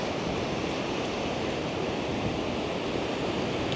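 Ocean surf washes steadily onto the sandy beach at Sennen Cove, a constant close roar of breaking waves mixed with wind noise and no clear pauses.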